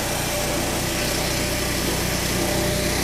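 A Peterson Swingblade sawmill cuts soft pine 4x4 fence posts, about three meters long, in New Zealand; a loud, steady, high engine roar with a constant whining cut runs without a break throughout.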